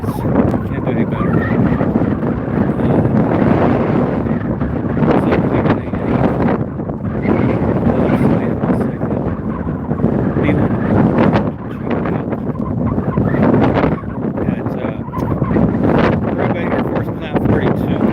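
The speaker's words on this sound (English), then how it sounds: "The wind is up." Wind gusts buffet the microphone outdoors in the desert near parked aircraft, a loud, steady rumble broken by brief lulls, with people talking now and then.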